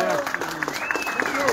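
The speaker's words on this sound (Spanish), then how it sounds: "Fuerte aplauso para este señor" Audience applause at a live Paraguayan music show at the Patio Sapukai in Roque Saenz Peña: steady crowd clapping throughout, with a voice speaking over it.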